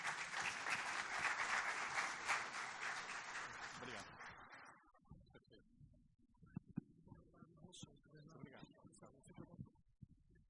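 An audience at a tax reform dinner-debate applauds to welcome economist Bernard Appy. Dense clapping lasts about four seconds, then fades to scattered faint room noise and light movement.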